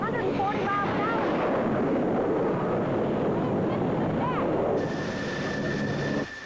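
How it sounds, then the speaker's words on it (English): A jet plane comes in to land on the aircraft carrier USS Constellation at around 140 miles an hour, a loud, continuous roar mixed with heavy wind buffeting that holds steady before easing slightly near the end. "when a plane's coming in like this one is here behind me, it's going 140 miles an hour"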